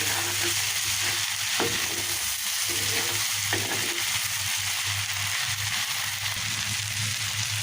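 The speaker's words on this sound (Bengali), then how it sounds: "এখানে যে পেঁয়াজ রসুন আর চিংড়ি মাছ দিয়েছি একটু ভেজে নিচ্ছি" Onion, garlic and prawns fry in a home kitchen pan, giving a steady, close sizzle with a low background hum and a few soft stirring clicks, with no talking.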